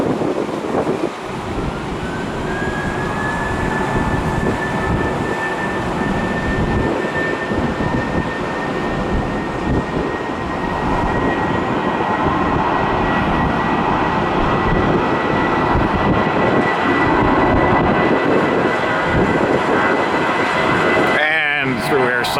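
A NYPD-liveried Boeing 767 airliner taxiing at Tampa airport, its engines a loud, continuous broadband roar with a steady high whine held throughout, heard from a spotting position nearby.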